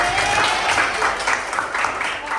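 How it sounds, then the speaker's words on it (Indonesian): Students in an Arabic language class clap together, a brief burst of dense applause in a small room with a faint tone and murmur underneath. "Oke, tepuk tangan semuanya."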